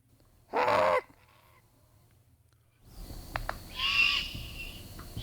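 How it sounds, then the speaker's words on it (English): A juvenile great horned owl gives a harsh, raspy screeching call, rising loud and close after a quiet stretch, with a second strong burst toward the end; an earlier brief sound appears before a pause. "let's play this juvenile great horned owl, Calvin, if you could."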